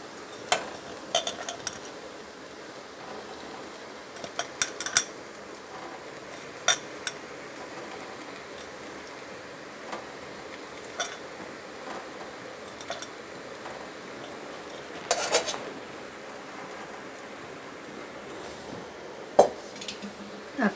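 Pasta going into a pan of Indian-style spiced mixture and being stirred, with sparse metallic clinks and scrapes of a utensil against cookware over a quiet background, a few sharper knocks near the end.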